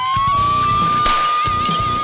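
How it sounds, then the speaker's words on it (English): Hot Wheels diecast cars crash on a racing track, a sharp clattering burst of plastic and metal impacts about halfway through, over a steady high tone and busy background noise. "More crashing into the turn!"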